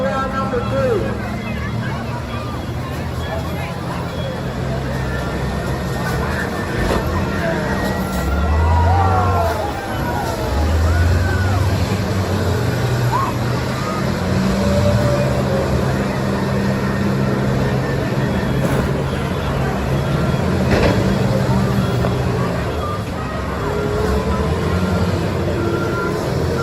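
School buses smashing into each other in a demolition derby, engines rumbling and revving throughout with scattered impacts, under a loud crowd babble and announcer voices.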